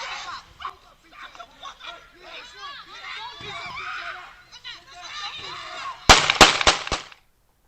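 Sharp, loud gunshots crack out in quick succession near the end, following a stretch of busy mixed sound with talking.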